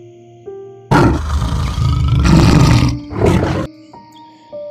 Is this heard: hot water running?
no